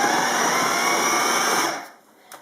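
A blender whirs loudly and evenly while mixing raisins into gluten-free sourdough, then winds down and stops after a brief run.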